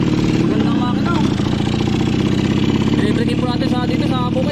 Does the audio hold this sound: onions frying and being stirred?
no